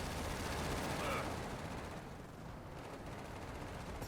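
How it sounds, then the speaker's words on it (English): Gunfire from Gears of War 4 on Insane difficulty, a dense rattle of shots and booms that stays loud through the first half and then eases into a steady, slightly quieter barrage. "Be a little more careful of them shooting in your area."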